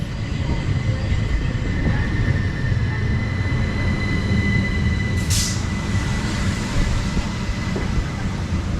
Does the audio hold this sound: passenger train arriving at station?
yes